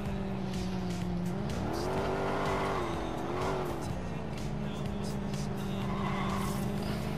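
A car in Watch Dogs drives with a steady engine drone that rises in pitch as tires squeal and skid twice, loud and continuous, with faint game noise around it.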